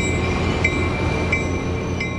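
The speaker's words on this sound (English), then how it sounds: "you can watch the trains come and go from the Santa Fe station downtown" A train rolling past near the downtown Santa Fe Depot station, a steady rumbling roar with a faint high squeal and light periodic clicks, heard from some distance.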